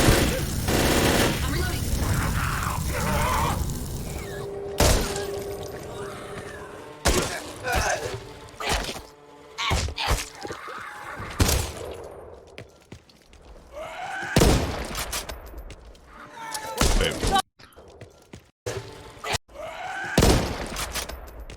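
Gunfire from the zombie shooter Back 4 Blood as players blast common infected: rapid bursts and single sharp shots with booming impacts, loud and dense, mixed with in-game voices and commentary.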